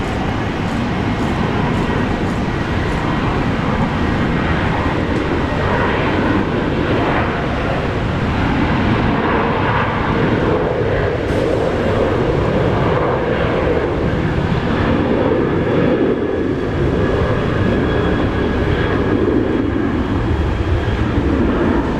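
A Qantas airliner in Aboriginal livery departing Brisbane Airport for Sydney: a loud, sustained broadband engine roar rumbling steadily throughout, close and unbroken, with no voices over it.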